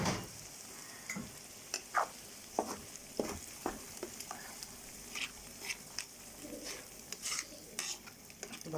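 Onion and tomato frying in a pan for Egyptian mahshi, a soft steady sizzle broken by close, irregular scrapes and clinks of a spoon stirring against the pan, with no talking.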